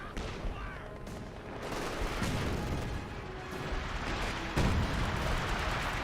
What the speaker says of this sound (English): the major artillery, of course, will miss, but did its job of displacing units